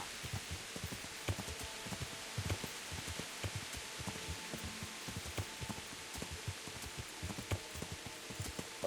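Rain in the video game Kingdom Come falls as a faint, steady patter with scattered soft drops throughout, with no voices over it.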